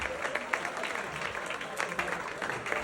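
Audience clapping for a stand-up comedian at a comedy show, a scattered patter of hands with a voice speaking over it.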